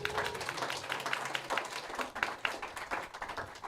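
Audience applause for a panel at a venture capital event, a scattered burst of clapping over a few seconds that rises and falls, with some talk in the room underneath.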